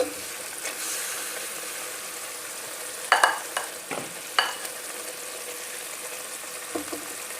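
A spoon stirs mashed potato cooked with turmeric, salt, ground coriander, garam masala and a little water in a pan, giving a soft steady sizzle with scattered scraping clinks of the spoon against metal, close up and without talking.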